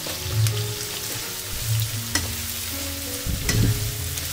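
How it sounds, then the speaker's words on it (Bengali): Mixed vegetables with chunky capsicum pieces and a pinch of salt stir-fry in a pan over a medium-high gas flame for restaurant-style chow mein, with a steady close sizzle, repeated scraping strokes of the spatula and a low humming drone underneath. "এবারে আমি গ্যাসের ফ্লেমটাকে মিডিয়াম টু হাইতে রেখেই সবজিগুলোকে 1-2 মিনিট মতো একটু ভেজে নিচ্ছি।"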